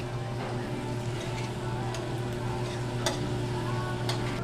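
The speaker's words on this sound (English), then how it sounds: "While this is still cooking, I'm gonna add the beef belly on." Beef belly sizzles on a Korean BBQ grill at an all-you-can-eat restaurant in Los Angeles, a steady crackle under a constant low hum of ventilation and room noise, with a few sharper ticks and pops.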